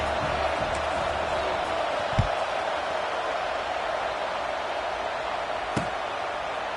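A subdued stadium crowd in an NCAA football video game, a steady broad murmur of fans holding at an even level, with a couple of brief thuds cutting through.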